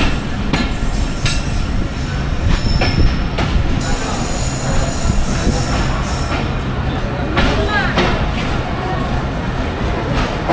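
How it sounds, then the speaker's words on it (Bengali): The Kanchan Commuter Train rolls into platform 1 at Dinajpur station, wheels clattering and squealing on the rails with a loud continuous rumble and sharp metallic screeches, while someone talks over the noise. "এই যে আমরা দিনাজপুর স্টেশনের একদম 1 নম্বর যে প্ল্যাটফর্ম আছে সেই প্ল্যাটফর্মে ঢুকলাম।"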